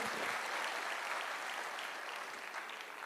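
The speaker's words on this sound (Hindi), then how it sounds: "या ताली बजाओ तो आपकी मर्जी, बजा भी सकते हो।" Audience applause at a motivational talk, a steady wash of many hands clapping that stays even throughout, fairly faint and heard alone without speech.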